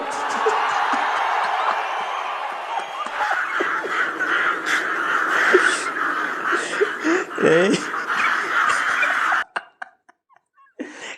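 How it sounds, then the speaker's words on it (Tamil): A flock of crows caws loudly in a dense overlapping chorus, with voices mixed in, before the sound cuts away into near silence at the end. "காக்கா கூட்டம்"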